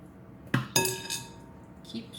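French mayonnaise is stirred in a bowl: two sharp, ringing clinks of a utensil against the bowl, then a few softer taps, all fairly faint and quiet in between.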